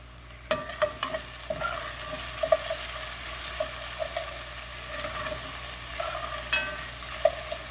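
Vegetables sizzle in a pot for chicken gumbo, with a spoon scraping and clinking against the pot in irregular strokes over a steady hiss of frying.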